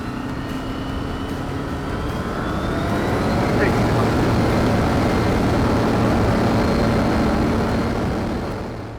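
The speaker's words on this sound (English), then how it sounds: "that 916 is just a very nice flying motor" A KFA Safari XL light aircraft with a 916 engine drones steadily overhead, its propeller hum swelling louder toward the middle before easing slightly, with a continuous low engine tone and wind rush throughout.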